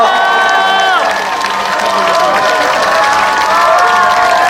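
A large crowd at an outdoor memorial cultural event for the Sewol ferry disaster cheers and applauds loudly and continuously, with shouts mixed in as a held musical tone fades out at the start.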